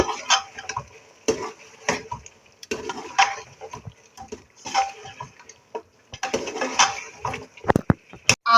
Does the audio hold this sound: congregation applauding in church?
no